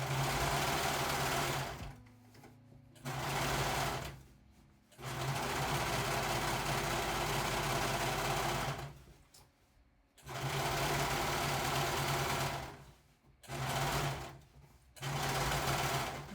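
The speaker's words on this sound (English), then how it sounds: "I just tried to cut off part of a seam and it was really thick. The serger did not approve." Serger sewing machine stitching and cutting through a thick fabric seam on a skirt, running in loud whirring bursts separated by short pauses, with no talking.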